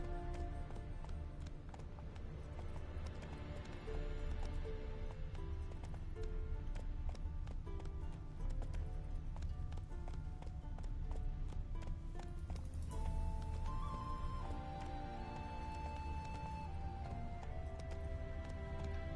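Rhythmic hoofbeats of a galloping horse in The Witcher 3: Wild Hunt run steadily throughout, mixed with a continuous bed of background music and effects.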